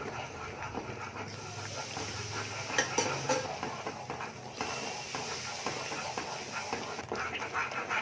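Thick ghee Mysore pak batter of gram flour, ghee and oil being stirred steadily in a pan, a continuous soft scraping and churning with a few sharper utensil knocks near the middle.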